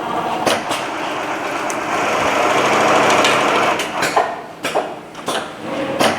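An automated sewing machine runs in a production sewing workshop, a loud close-up mechanical whir with rapid needle chatter that builds, then breaks into short stops and restarts toward the end.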